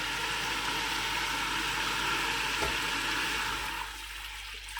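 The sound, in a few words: pouring jaggery syrup into cooked rice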